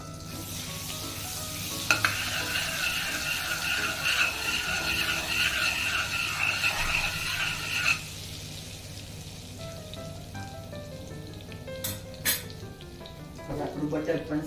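Butter and oil sizzle steadily in a pan as they heat, a dense crackling hiss that runs loud and continuous before easing to a lighter fizz with a few clinks toward the end.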